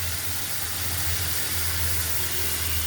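Steady hissing sizzle of tomatoes dropped into hot onions frying in a pan, a continuous close broadband hiss with a low hum underneath and no voices.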